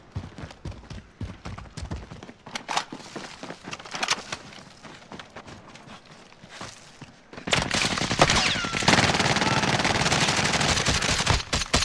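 Rapid bursts of gunfire in a 3v3 online shooter video game, scattered shots early on, then a loud sustained barrage of automatic fire filling the second half.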